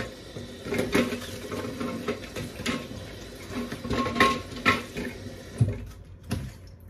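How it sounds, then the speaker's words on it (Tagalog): Cabbage being washed by hand under a running tap while making a Filipino boiled beef soup, with steady close water flow, splashing and rustling of leaves, uneven bursts throughout and a brief quieter stretch near the end. "Yung repolyo natin mga my friend, hugasan na rin natin."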